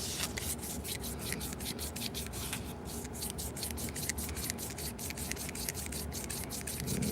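A watch part sanded by hand with 3000 grit sandpaper at a workbench, giving a steady close rasping rub with regular back-and-forth strokes repeating quickly throughout.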